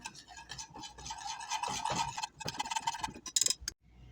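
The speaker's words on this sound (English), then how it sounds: "Throw that in there. Whisk immediately until this really thickens." A whisk scrapes quickly around a pan of pepper steak as cornstarch slurry goes in, making a close, rhythmic stirring clatter that ends with a few metallic clinks.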